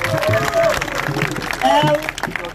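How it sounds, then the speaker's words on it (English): Crowd applause at an Edo State APC political rally, a dense roar of clapping and cheering that rises and falls over about two and a half seconds, with voices and shouts mixed into it. "Please, can we give a round of applause for that?"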